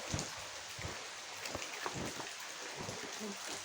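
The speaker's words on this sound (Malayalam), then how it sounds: "കുറച്ച് നല്ല മഴയാണ് നിങ്ങൾ കാണുന്നുണ്ടാവും" Heavy rain pours in the yard outside a goat shed, a dense steady patter with irregular drips and splashes close by.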